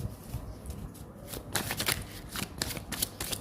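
Tarot cards being shuffled by hand during a love and third-party reading, a steady run of soft papery riffles and slaps, close and fairly quiet, with no talk over them.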